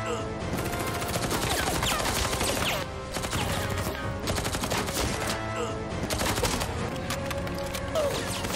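Dense, continuous gunfire in a film shootout, rapid overlapping shots and bursts that stay loud throughout, with a brief dip midway.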